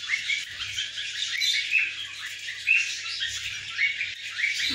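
Lovebirds in a large cage chirp and tweet continuously, several birds overlapping in quick, bright calls with occasional squawks, moderately close.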